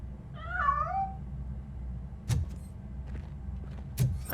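A cat meows once in RoboCop: Rogue City, a clear rising-and-falling cry, followed by a couple of sharp mechanical clunks and thuds against a low rumbling background.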